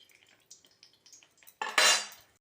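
Thenkuzhal dough is pressed into hot oil in a kadai: a few light metallic clinks and taps, then a sudden loud burst of sizzling that swells and slowly fades.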